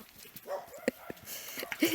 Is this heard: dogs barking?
yes